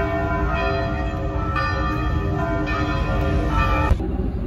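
Church bells ring out in Belém, Brazil, a steady run of bright overlapping metallic peals that fill the air continuously and loudly, with no voices over them.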